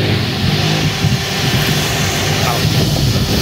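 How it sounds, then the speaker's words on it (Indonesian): A loud, steady motor hum with a broad whooshing roar from a car's radiator cooling fan running at full speed close by. "ini motor pinnya sudah nyala"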